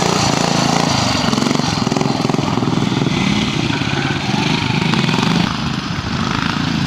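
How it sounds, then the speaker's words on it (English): A 250 pre-unit BSA motorcycle engine fitted with a Norton gearbox runs loudly and steadily at close range, its rapid exhaust pulses holding a constant pace before easing slightly near the end. "Adrian Brayshaw, 250, pre-unit BSA, in an aerial frame. Mix and match machine, it has a Norton gearbox."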